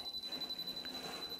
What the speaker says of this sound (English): at the moment we've got a continuous beeping